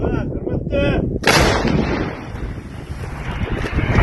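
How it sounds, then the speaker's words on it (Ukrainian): A single loud artillery shot booms out after a brief quiet moment, followed by a long rumbling, wind-buffeted roar that lingers. "Давай постріл."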